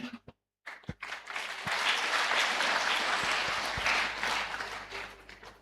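Applause at an Anglican church anniversary gathering, a broad steady wash of many hands clapping that swells in after a brief pause and holds loud throughout.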